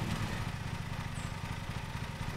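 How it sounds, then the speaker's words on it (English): Lawn mower engine in Lawn Mowing Simulator running with a steady low chugging rumble, continuous and fairly loud, with no talk over it. "So, start the engine."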